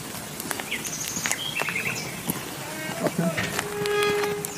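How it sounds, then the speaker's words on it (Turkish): Birds chirping and singing in hilly countryside beside a road with mountain water flowing nearby, several short tweets and calls scattered over a soft background hiss. "Yani tam böyle kuş sesleri böyle."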